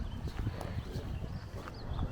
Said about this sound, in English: Oh my gosh, look, there's mountain goats literally right here.